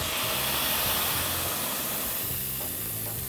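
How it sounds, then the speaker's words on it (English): Steak sears in a smoking hot oiled pan, giving a loud, dense, continuous hissing sizzle that fills the whole stretch without a break and without any voices. "That's the kind of searing sizzle we want."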